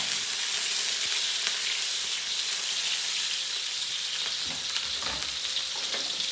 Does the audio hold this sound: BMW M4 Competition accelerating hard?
no